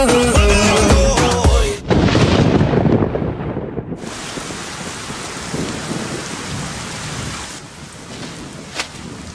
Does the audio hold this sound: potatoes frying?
no